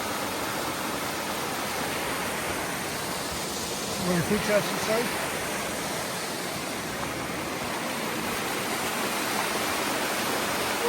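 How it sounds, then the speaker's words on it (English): A waterfall pouring down a small chute along a hiking trail gives a steady, broadband roar that fills the whole clip, while someone speaks briefly over it. "That's a pretty cool waterfall."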